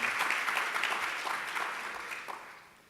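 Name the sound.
applause for a conference panel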